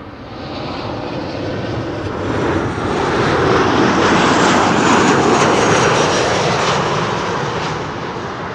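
A KLM Embraer 195 E2 jet comes in to land from Oslo with a loud, broad engine roar that swells to a peak mid-pass and then eases slightly, heard alone without talk.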